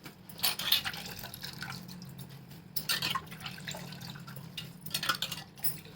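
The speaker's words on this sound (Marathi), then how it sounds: "पूर्ण पाणी काढून टाकायचं सोयाबीनला काही चव नसतं" Water drains off washed soybean chunks in a few separate bursts of splashing and trickling, with quiet dripping between the pours.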